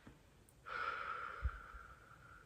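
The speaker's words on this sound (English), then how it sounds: "Breathe in and breathe out." One slow, soft breath drawn in and released during a breathing exercise, a gentle airy rush that swells and then fades, close and quiet with no talking.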